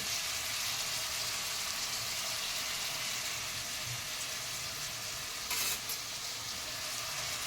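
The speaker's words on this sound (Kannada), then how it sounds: "ಈರುಳ್ಳಿನ ಈಗ ಚೆನ್ನಾಗಿ ಫ್ರೈ ಮಾಡ್ತೀನಿ." Onions frying in a pan while cooking set dosa and sagu, a steady dense sizzle running throughout at moderate level, with a brief brighter hiss near the end.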